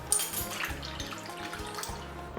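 Water pouring into a bowl to make salt water for soaking stuffed bitter melon, a short, steady close splash and gurgle with no talking.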